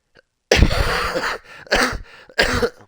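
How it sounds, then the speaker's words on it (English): Three harsh, close coughs in separate bursts, each rough and throaty, with short silences between them. "Sorry about the cough."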